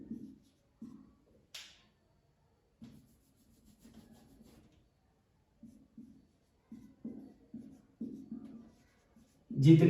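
Chalk or marker writing on a board during a history lecture, short scratchy strokes in irregular bursts separated by pauses, close and moderately quiet.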